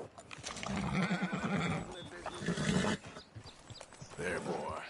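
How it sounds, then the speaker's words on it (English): A horse in a video game whinnies and its hooves clip-clop along, heard in bursts with a voice talking over parts of it. "What I'd give for a horse as fine as that."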